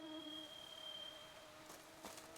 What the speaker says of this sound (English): Just gnats, I think.